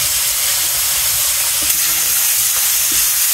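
Fish frying in hot oil, a loud, steady sizzle and hiss close up with a few faint pops and clinks underneath, continuous throughout.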